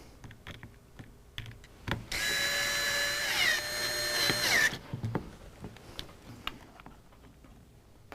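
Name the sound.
power drill tightening screws on Tippmann 98 paintball gun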